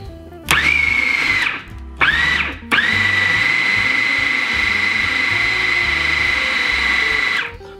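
Peanut butter and chocolate bar ingredients being beaten with an electric hand mixer: a loud, whining motor runs in two short bursts and then one long steady stretch before stopping.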